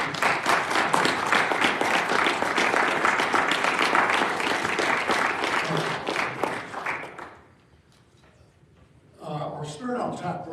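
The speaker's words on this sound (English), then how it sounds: "Let's give them a round of applause." An audience applauds at a Spirit on Tap community program: dense, loud clapping for about seven seconds, then fading to near quiet before a voice resumes at the end.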